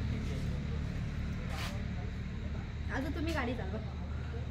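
Honda Activa scooter cruising on the Mumbai-Goa highway, a steady, close rumble of engine and wind drone running throughout, with people talking over it.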